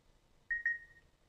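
A phone keypad gives two quick, clear electronic dings as a number is entered, the second tone ringing out a little longer, against a quiet background.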